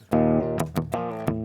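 Electric guitar played through a traced amp capture, loud and distorted, with a few struck chords ringing out over about a second and a half, each attack sharp and sustaining.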